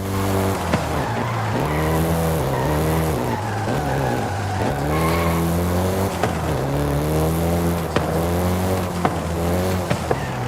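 A Volkswagen Golf GTI in Forza Horizon 5 revs hard and skids, its engine note rising and dipping through gear changes while tires squeal continuously, loud and close throughout.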